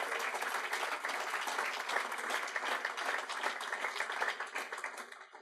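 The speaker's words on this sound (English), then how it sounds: "a round of applause for all those who helped us facilitate this session." Sustained audience applause at the close of a conference session, a dense, even wash of many hands clapping at moderate distance, lasting about five seconds before tapering slightly.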